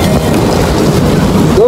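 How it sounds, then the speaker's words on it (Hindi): Loud, heavy roadside rain pours in a dense, roaring wash, close and constant, with a faint voice briefly rising near the end. "बहुत तेज बारिश है।"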